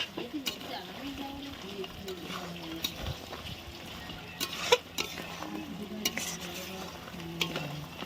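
Mutton head is stir-fried in a pan, with repeated spatula scrapes over a steady sizzle close by while birds coo faintly in the background.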